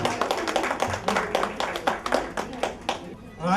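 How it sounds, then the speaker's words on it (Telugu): Guests at a first birthday party clap in quick, uneven bursts close by, with a host's voice talking over the hand claps throughout. "గట్టిగా చప్పట్లు కొట్టారండి"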